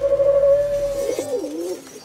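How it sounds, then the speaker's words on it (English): Pigeons cooing in the video game Miraculous: Rise of the Sphinx, a soft, steady run of coos that warbles toward the end, mid-loud with no talk. "He just deployed an army of ominous pigeon bots that are causing havoc in the city."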